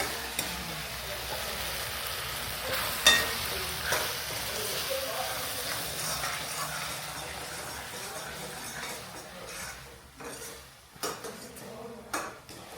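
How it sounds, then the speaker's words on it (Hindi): A tomato and pea vegetable curry cooks in a pan in an ashram kitchen, with soft sizzling, utensil clinks and stirring scrapes over several seconds while people talk nearby. "सब्जी बन रही है, टमाटर और मटर।"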